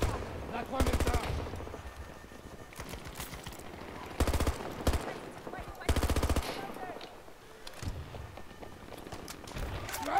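Sentry turret firing in Battlefield 2042 on the Noshar Canals map: several loud bursts of rapid automatic fire, with a long burst near the start and shorter ones later, plus scattered shots and game noise between.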